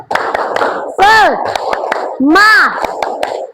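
Students in a classroom clap a spirit-clap pattern together, crisp rhythmic hand claps close by, with children's voices chanting loudly in bursts between the claps.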